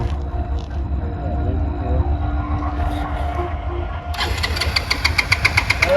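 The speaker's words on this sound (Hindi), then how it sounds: "अरे ये स्टार्ट नहीं हो रही।" A car engine cranks but fails to start, a steady low rumble with a rapid, rhythmic starter chatter that grows louder toward the end.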